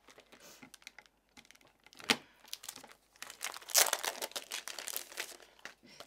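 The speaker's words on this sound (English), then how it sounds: "Okay, I'm going to peel these off." Paper backing being peeled off small card pieces in a crafting session: a series of crisp, close crinkling and tearing rasps, louder toward the end, with no talk.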